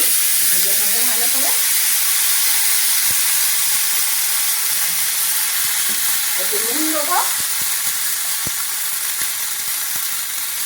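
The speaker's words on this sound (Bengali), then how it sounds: "এবার আলুটাকে ভালো করে মেরে ভেজে নেব" Small potato pieces fry in oil with turmeric for a Bengali vegetarian curry, a loud continuous sizzle and hiss up close, with a few knocks of stirring and faint voices underneath.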